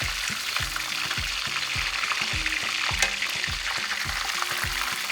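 Breaded steak fries in a pan with a steady close sizzle and crackle over a repeating low rhythmic thumping, and nobody speaks.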